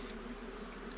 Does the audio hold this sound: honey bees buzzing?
yes